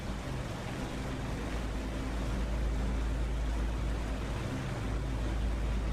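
Twin engines of a de Havilland Mosquito aircraft in DCS, throttled back to a steady, low, droning hum that stays loud and close throughout, with no voices.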